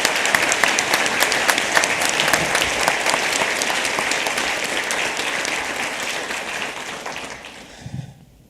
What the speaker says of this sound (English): I want to really extend a round of applause for these trustees